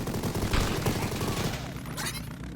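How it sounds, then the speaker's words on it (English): Repeated shotgun blasts and other weapon fire in the video game Mighty Goose, loud and dense through the first half and thinning out later, with a voice shouting over the action. "Shotgun! Shotgun!"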